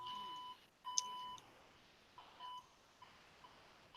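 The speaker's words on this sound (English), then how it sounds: "It's like I just heard beeping." Several short, faint electronic beeps at steady pitch, sounding at a few points across the stretch against a low background hiss.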